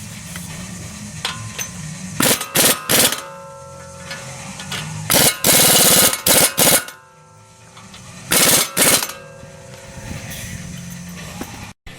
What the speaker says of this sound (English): for now, I'm putting them back on with an impact gun